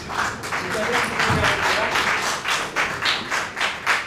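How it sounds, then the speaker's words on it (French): An audience at a theatre performance claps, a close, lively burst of applause whose beats turn rhythmic near the end, with voices mixed in. "on peut les applaudir"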